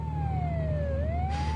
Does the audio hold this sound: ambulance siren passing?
yes